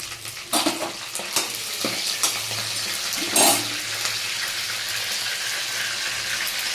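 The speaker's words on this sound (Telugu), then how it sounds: "బెండకాయలు ఫ్రై అయినాయండి, బ్రౌన్ కలర్లోకి వచ్చినాయిగా" Okra browning in a hot pan with curry leaves, a close crackling sizzle punctuated by sharp spatters and stirring scrapes, with one louder burst of hissing partway through.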